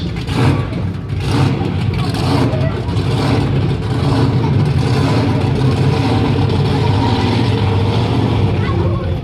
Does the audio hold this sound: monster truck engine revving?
yes